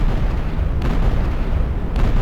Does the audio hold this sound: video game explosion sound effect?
yes